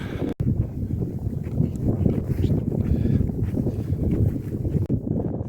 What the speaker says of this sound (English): I'm hoping you can hear me because it's quite windy